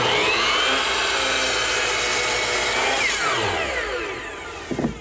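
Wood trim being cut in a miter box, a continuous close rasping saw stroke that fades near the end with a few light knocks.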